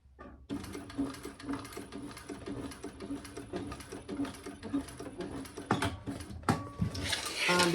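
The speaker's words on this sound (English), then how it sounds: "I decided to put one extra row of stitches right on" A sewing machine stitches an extra row on a cork tote near the D-ring, rapid rhythmic needle thumps after a short pause, then a few sharp clicks and rustles of handling as the row finishes.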